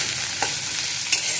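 Vegetables sizzle in a hot pan with a constant close hiss while a utensil stirs them, making two short scraping sounds. No one speaks.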